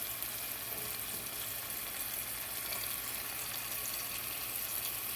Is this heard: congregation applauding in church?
no